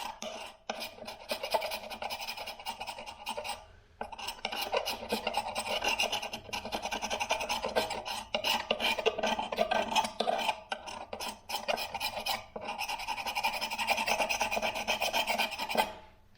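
Softened water-based paint is scraped off a wooden windowsill, producing a long series of close, gritty rasping strokes with a couple of brief pauses between passes.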